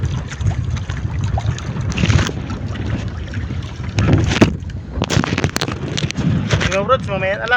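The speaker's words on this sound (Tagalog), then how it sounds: "Mahangin kasi." Strong wind buffets the microphone at sea beside a small fishing boat on a catch-and-cook trip, a steady roar with gusty swells while someone talks over it.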